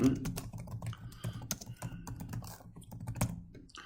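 Rapid, irregular keystrokes on a computer keyboard clatter continuously and close up, with faint breathy sounds in the background.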